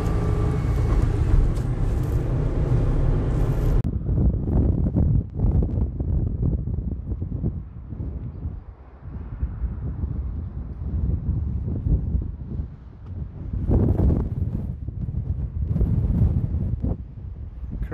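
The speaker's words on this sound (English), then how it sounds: "Crazy wind." Strong wind blasts across the microphone near a naval base on the coast, a loud continuous roar that rises and falls in gusts with a deep low rumble throughout.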